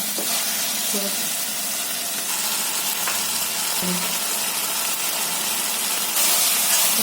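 Red chili powder and masala frying in hot oil for a spicy Maharashtrian roasted-brinjal bharit, giving a dense, continuous close-up sizzle that holds steady throughout with only small fluctuations.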